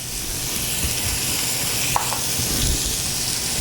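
Chicken frying in a pan for chicken parmesan, a steady close sizzle that carries unbroken throughout with a faint clink of stirring partway.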